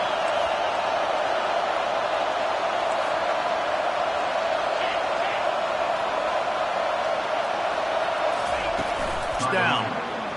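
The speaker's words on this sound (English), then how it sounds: "This crowd trying to make life miserable for this offense." Steady roar of a stadium crowd at a Texas football game, a continuous loud wash of voices throughout with a brief swell near the end, under a commentator's talk.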